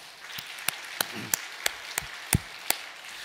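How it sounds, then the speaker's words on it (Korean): Sparse, scattered claps from a small church congregation in a quiet room, about eight distinct sharp hits spaced irregularly, fairly faint with no talking. "우리 섬김의 마을장들, 우리가 박수로 한번 격려를 해주시겠습니다"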